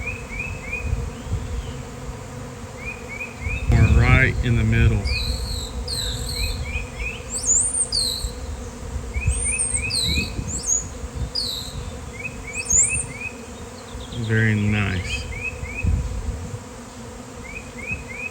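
Bees of a large swarm, yellow jackets or honeybees, landing on the ground outdoors, hum as a dense steady drone close around, with birds chirping high above and someone speaking briefly in the middle.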